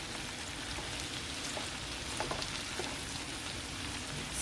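Cabbage frying in plenty of grease, a dense continuous crackle and sizzle with scattered pops, steady and close throughout.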